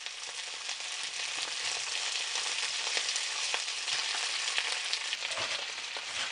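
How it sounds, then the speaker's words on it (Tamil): Vegetables for stir-fry veg noodles, including bok choy, frying in a pan with a dense, steady, close sizzle and occasional faint stirring clicks. "ஒரு காயாக நம்ம எல்லாத்தையும் போட்டு நல்லா ஃப்ரை பண்ணிக்கலாம்"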